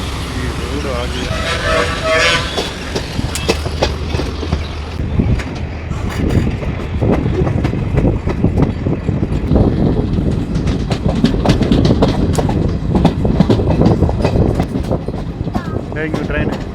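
A passenger train crosses a railway bridge on the Coimbatore to Trichy line, its wheels beating a steady, loud clickety-clack rhythm under wind rush, with a toot early on and people talking.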